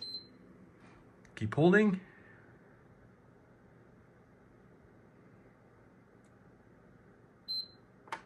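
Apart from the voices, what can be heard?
PS5 console beeping while power button is held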